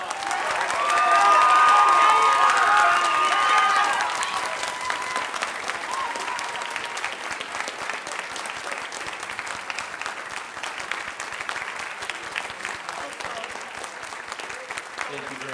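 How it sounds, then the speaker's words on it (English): An audience applauds and cheers for the senior string players at a high school orchestra concert, swelling into a loud burst with whistles and shouts before settling into a long, steady round of clapping. "Give them a huge round of applause."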